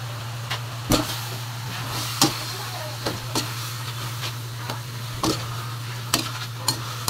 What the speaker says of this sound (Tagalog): Halo-halo para ma-mix